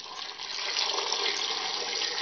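Water poured from a vessel onto chopped tomatoes in a pot while making homemade tomato ketchup, a steady close splashing pour lasting about two seconds with no voices.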